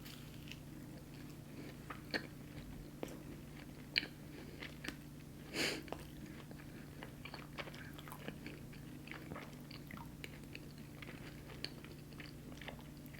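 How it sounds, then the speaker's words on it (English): Someone eats lemon bars close to the microphone, with soft, sporadic bites and moist chewing sounds over a quiet room hum, with no talking. "I'm gonna try the lemon bars because I've been wanting to try these"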